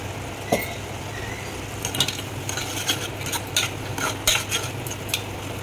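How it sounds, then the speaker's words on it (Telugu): Spoon stirring atukula paisam, a flattened rice pudding, in a pot: a soft steady bubbling bed with a few sharp metallic clinks of utensil against the pot, close up and without speech. "వేసేసుకొని బాగా కలుపుకోవాలండి."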